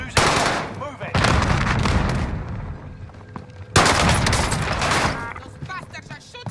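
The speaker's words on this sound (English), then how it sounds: "Those bastards are shooting." Gunfire in a war video game, dense bursts of shots in loud clustered volleys with brief lulls, close and continuous over a chaotic battle mix.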